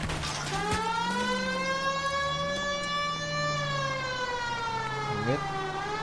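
Police car siren from the video game L.A. Noire, a steady wailing tone with rising and falling sweeps, loud and continuous throughout, with a brief voice near the end.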